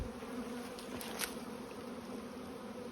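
Bees buzzing in hive boxes make a steady, dense, close drone that holds at a constant level the whole time, with a faint brief rise near the middle.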